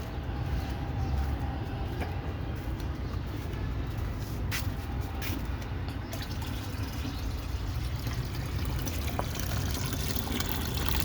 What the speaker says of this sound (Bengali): এই যে দেখেন সিদ্ধ করতে যে পানি ছিল পানিগুলো ফেলে দিচ্ছে দেখেন।